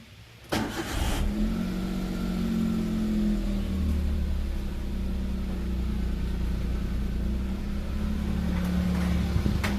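A Maruti Alto 800 in neutral starts with a brief crank, then settles into a steady, close, low engine idle that holds evenly throughout.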